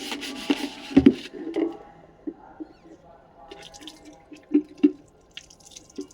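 A dirty jug scrubbed with a cloth, with intermittent rubbing and squeaky scraping strokes, drips of water, and scattered knocks, close and quiet.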